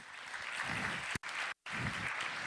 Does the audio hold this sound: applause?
yes